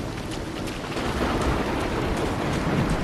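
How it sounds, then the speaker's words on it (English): Steady, heavy rain pours with a low rumbling undertone in Evil Dead: The Game, loud and constant throughout without any speech. "It's too freaking rainy."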